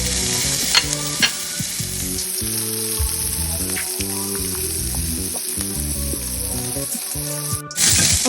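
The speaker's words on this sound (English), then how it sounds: "we just want to brown our sausages. We're going to let these cook" Sausages brown in a hot pan with a steady, close sizzle and crackle that pops and spits in bursts and carries on without a break, with no talking.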